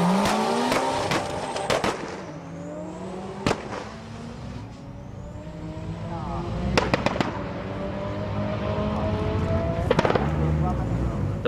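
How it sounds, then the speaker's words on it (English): Drag race cars at a 2001 HKS street drag event at T.I. Central bang off the rev limiter in sharp repeated stutters between rising engine sweeps, with a narrator speaking throughout. "A lot of drivers like to use the rev limiter as a shift indicator."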